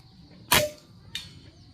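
A single sharp gunshot cracks out, followed moments later by a fainter second impact or echo, quiet surroundings otherwise.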